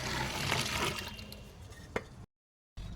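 A whole chicken, already rinsed under the tap, is plunged into a bucket of hot water, giving a close splashing and sloshing wash that tapers to a faint drip, with one sharp knock near the end before a brief silence.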